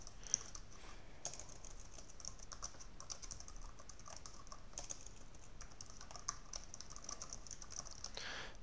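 Rapid typing on a computer keyboard while text is entered into a Mathematica notebook, a quiet, close, continuous patter of key clicks with occasional sharper taps and no talking.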